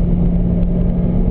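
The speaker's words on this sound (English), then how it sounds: "Now throttle for balance." A Corvette ZR1 on a race track under throttle, its engine a loud, steady close rumble with a constant droning tone and no voices.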